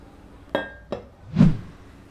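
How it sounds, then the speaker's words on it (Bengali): A pan of lentils and water is set down on a stove: two sharp metallic clinks followed by a duller, heavier knock, close and otherwise quiet. "প্যানটা চুলায় বসিয়ে দিলাম।"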